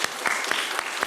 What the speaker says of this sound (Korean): 한번 잠깐 일어나시면 박수로 환영하겠습니다.